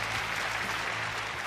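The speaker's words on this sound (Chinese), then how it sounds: "同样热烈的掌声送给十二位老板" A studio audience on a Tianjin TV job-seeking show claps together in a dense, steady burst of applause, close and continuous with no voices over it.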